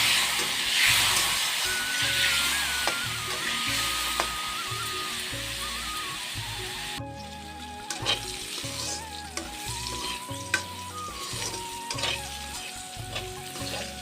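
Slices of pointed gourd with turmeric and salt fry in hot oil, a steady close sizzle with occasional stirring clinks and scrapes, continuous throughout and without talk.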